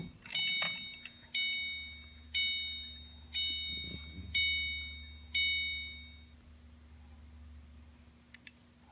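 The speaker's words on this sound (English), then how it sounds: "You're going to hear the annoying buzzer." A car's key-in-ignition warning buzzer sounds in a parked car. It gives five evenly spaced electronic chimes, each fading away, close and clear over a low hum, with a few soft clicks before and after.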